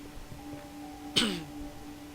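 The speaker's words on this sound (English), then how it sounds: "Sorry for coughing so much." One short, sharp cough breaks over a steady electrical hum, followed by quiet.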